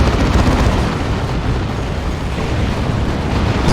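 A singularity ability erupts in Dawn of War 2 during a 3v3 Warhammer 40,000 match: a loud, dense, sustained roaring blast of rumbling noise that fills the whole moment with no let-up.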